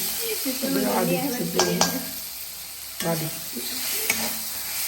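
Chicken frying with garlic on a Kerala-style stove crackles in a steady sizzle while a spoon scrapes and clinks against the pan in a few stirring strokes, a voice speaking faintly in the background.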